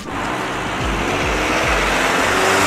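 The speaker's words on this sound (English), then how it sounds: "Listen to the sound of this engine." A car engine roars loudly past at close range, its pitch sweeping downward as it approaches and moves away, a brief, strong passby with audible Doppler shift.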